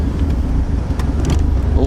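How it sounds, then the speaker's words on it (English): An old car's engine idles with a low, uneven rumble, surging slightly and missing a little, heard steadily from inside the car with no talk. "My throttle is exactly as is, and it's like surging a little bit."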